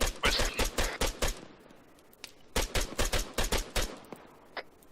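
Sniper and rifle gunfire in the video game Arma 3: rapid loud cracking shots in two bursts with a short pause between, then a single late shot, with no voices.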